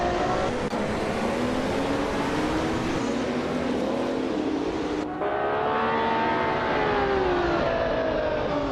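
Race cars set off at the start of a race at Wakefield Park in a racing game, a classic 1978 Porsche 935 among them: layered, loud engine whines rise and shift in pitch without a break, with no talk.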